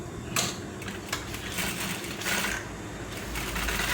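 A sewing machine stitching the crotch seam of a pair of trousers runs in a fast, continuous mechanical whir and clatter, close and steady, with a few brief pauses.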